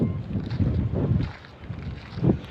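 Strong wind buffets the microphone in heavy low gusts, rising and falling with no voices.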